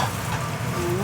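Eggs with toona sprouts frying in a home kitchen pan give a steady, close crackling sizzle that holds evenly throughout with no pauses.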